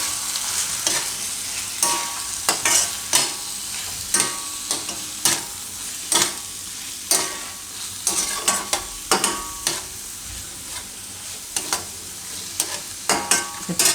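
A spoon repeatedly scrapes and knocks through sizzling curry for methi matar paneer as Kashmiri red chilli and coriander-cumin powder are mixed in, producing an uneven rhythm of sharp clinks over a constant hot frying hiss.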